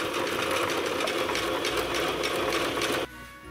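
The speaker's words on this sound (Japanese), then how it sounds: "5ミリ内側にミシンをかけました。" A sewing machine stitches fabric with a rapid, steady mechanical whir and needle rattle for about three seconds, then stops abruptly, leaving a quiet hum.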